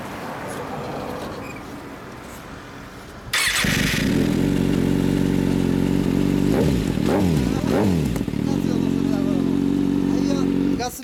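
A 2014 Kawasaki 636 motorcycle fitted with an M4 exhaust fires up partway through and then idles loudly and close, with a few sharp throttle blips. Talk is heard before the engine starts.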